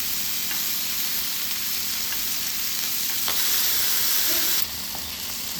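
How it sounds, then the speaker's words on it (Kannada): Pepper chicken frying in hot oil in a pan as the pieces are turned over, a constant loud crackling sizzle with a few scraping knocks from the spatula. "ಒಂದು ಸೈಡ್ ಬಂದಿದೆ, ಈಗ ಮೊಗ್ಸಾಕ್ತಾ ಇದ್ದೀನಿ."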